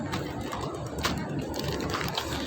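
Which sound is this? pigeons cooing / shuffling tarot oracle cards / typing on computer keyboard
pigeons cooing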